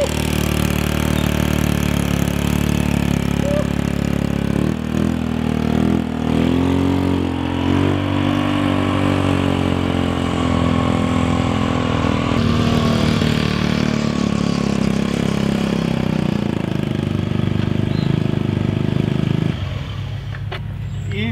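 A stretched Honda Metropolitan scooter's small engine drones steadily through a ride, with shifting pitch as it accelerates and eases off, loud and continuous before dropping near the end.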